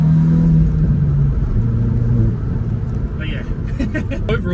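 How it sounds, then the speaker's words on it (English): Exhaust note of a 2024 Hyundai i20N while driving: a loud, low engine drone for about two seconds that then drops to a softer rumble, with a brief voice near the end. "The exhaust sounds cool."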